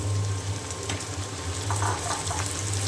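Cabbage added to hot oil with fried onion and green chili, a steady crackling sizzle with light stirring over a low background hum, close by and without talk.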